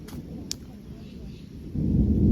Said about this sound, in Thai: แล้วก็ฟ้าร้องดังมาก